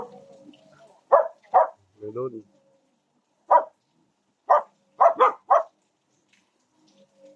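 A dog barks in short bursts, single barks followed by a quick run of three or four, at moderate distance, near a landslide site; a voice briefly speaks between them.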